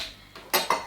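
Butter knife clinking against a bowl while mixing pork, apple and cheese pasty filling, a few light metallic taps and scrapes, close and fairly faint, with no talking.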